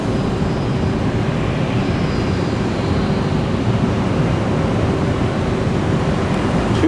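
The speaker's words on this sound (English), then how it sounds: "It says this is a Southwest also arriving from Midway, Chicago" A Southwest Boeing 737 airliner arriving from Chicago Midway to land at Tampa in the night gives a steady, broad jet roar from a distance, continuous and unchanging throughout.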